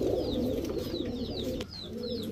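Pakistani Teddy Rampuri pigeons, club-bred birds, coo in a low, throaty, continuous murmur close by. Light chirps repeat over the top, with a brief dip near the end.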